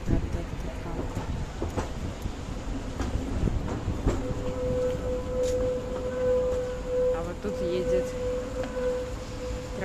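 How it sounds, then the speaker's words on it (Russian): A blue tram rumbles past on rails at an evening intersection with a steady rolling drone and a long, sustained tonal squeal from the wheels, while people talk nearby. "Трамвай, синий трамвай."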